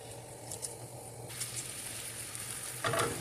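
Cooking oil sizzles softly and steadily in a pan as the base for lasagna is fried, with faint stirring sounds close by.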